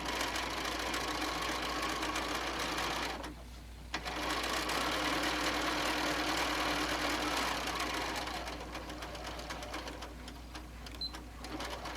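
A sewing machine stitches a back tack along the edge of a barbecue apron made from a fabric panel, giving a steady, continuous mechanical whir with a brief pause partway through, close and alone.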